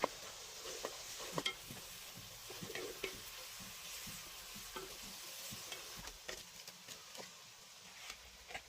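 Cleaned crab is stirred into thick masala paste in a pan, giving a quiet sizzle with soft, irregular scraping and ticking from a spoon moving through the mixture.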